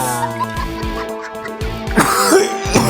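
Several harsh, raspy throat-clearing coughs come in quick bursts close to the listener, mixed with vocal sounds between them.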